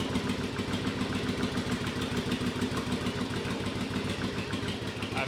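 A cold Yamaha Virago cafe racer motorcycle idles without choke, its engine thumping steadily and roughly at close range, with uneven pulsing and no talk over it.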